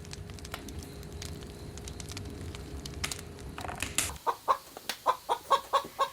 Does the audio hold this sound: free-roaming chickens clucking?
yes